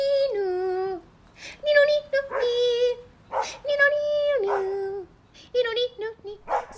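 A dog gives several high whimpers and yips mixed with short barks in an uneven series, close and fairly loud, broken by brief pauses.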